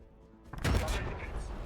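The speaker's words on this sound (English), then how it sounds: "So he's shooting into our immolator yet." A short, loud burst of gunfire erupts about midway through a battle in the strategy game Warhammer 40000 Battlesector, with Adepta Sororitas fighting Astra Militarum, then fades into a rumbling tail.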